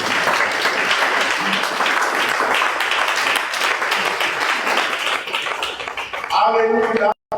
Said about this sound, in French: Acclamons-nous.